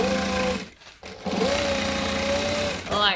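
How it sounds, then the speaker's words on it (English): A sewing machine top-stitches fabric for a bag with a drop-in lining, its motor whirring in steady close-up runs that pause briefly before resuming, while a person talks faintly in the background. "And then I'm going to top stitch."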